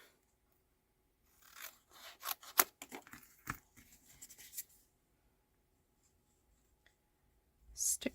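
Scissors cutting scrap card stock, giving a few seconds of quiet snipping and rustling with a couple of sharper snips, then near silence and a brief final rustle.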